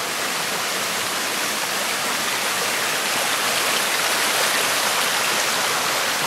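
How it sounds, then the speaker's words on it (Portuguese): Rushing water of a waterfall in a park, a loud, dense, continuous hiss and roar close by, steady throughout with no other sounds. "Já dá para ouvir o barulho de água."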